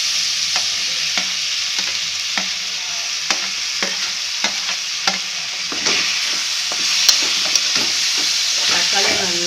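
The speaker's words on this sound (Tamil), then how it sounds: "வெங்காயம் வதங்கிட்டு இன்னும் நெக்ஸ்ட்டு தக்காளியை போடுறோம்" Onions and tomatoes fry for a crab gravy, giving a steady, close sizzle. A spoon scrapes and stirs the pan at regular intervals throughout.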